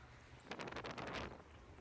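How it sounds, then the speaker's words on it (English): Strong outdoor wind batters and shakes a camera, a low rumbling buffet that swells into a louder gust midway and then eases back to a steady roar. "The wind is battering everything."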